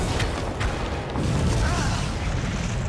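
Explosions in the game Resident Evil 2 Remake, a dense rumbling blast that fills the whole stretch with heavy low booming, while a player's voice talks over it.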